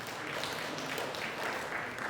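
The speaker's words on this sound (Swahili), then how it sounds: "Jipigeni makofi mengi sana." An audience at a district education meeting claps together, a steady, fairly faint patter of many hands held evenly throughout.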